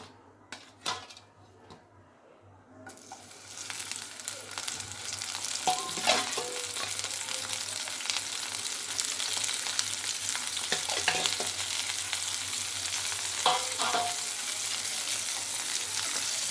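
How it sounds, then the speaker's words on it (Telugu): Dried fish frying in a little oil for a village-style fish curry, starting quiet with a few clinks, then swelling into a steady close sizzle punctuated by utensil scrapes and taps. "మనం చేపలు వేయించుకోవాలి"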